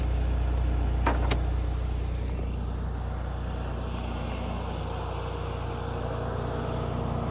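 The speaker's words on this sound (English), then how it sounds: "Get an exhaust clip for you." Steady exhaust and engine drone from a Mercedes-AMG C43 with an inline-four, rated at 402 horsepower, recorded from inside while driving, with a couple of brief clicks early on over the continuous hum.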